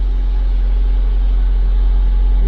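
A Honda Civic engine that has trouble starting after the wipers are switched on runs at a steady, loud, close idle, with a deep continuous rumble and no other sounds.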